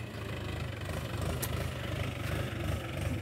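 A Mahindra 265 tractor hitched to a loaded trolley runs at a steady low rumble, idling evenly and fairly quietly, with no voices over it.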